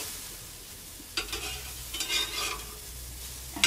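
Paw paw pancake cooking in a pan, a soft steady sizzle with a few brief scraping stirs of a utensil close by.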